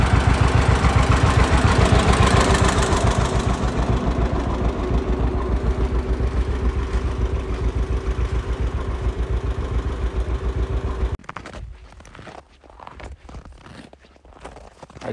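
A loud John Deere 630 tractor engine idles steadily with a low, pulsing rumble, then cuts off abruptly, leaving quieter rustling and faint knocks.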